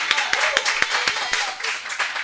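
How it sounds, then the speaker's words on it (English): A short burst of audience clapping at a gathering, with a handful of distinct sharp claps standing out over a dense wash of hand noise, close and fairly loud, with talk mixed in. "can we give her another round of applause"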